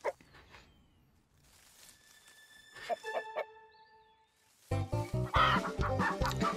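A cartoon chicken clucking in the video game Lost in Play, a few short clucks and squawks over light game music, ending in a louder burst of rapid clucking.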